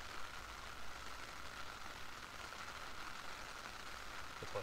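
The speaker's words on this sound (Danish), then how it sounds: "det skulle pisse regne sådan her hele dagen" Rain falling outdoors at a Danish fishing lake, a steady faint hiss of drops on surfaces with no talk, even and unbroken throughout.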